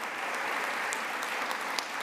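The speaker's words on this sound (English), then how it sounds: "a round of applause" An audience at a Let's Move Active Schools event gives a round of applause, a dense, even spatter of many hands clapping at once, steady and fairly close.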